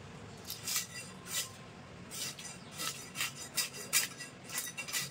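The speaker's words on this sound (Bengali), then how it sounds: "এখন আমি মাছটা কেটে নেব।" A knife slicing through a fresh rohu fish, producing short, close scraping and rasping strokes in an uneven rhythm, fairly quiet with no talking.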